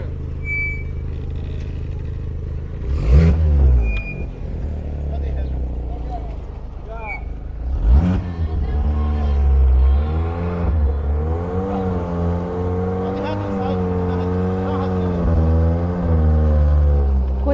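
A Volkswagen Kombi van's engine idles and revs aboard a river ferry, a loud low drone rising and falling with throttle, while people talk and call out nearby throughout.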